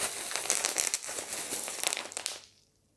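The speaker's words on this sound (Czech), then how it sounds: "Spoustu bublinkový folie" Bubble wrap packing from the box of a White Shark Monza luxury chair crinkles and crackles loudly and up close in dense bursts for a few seconds, then stops into near silence.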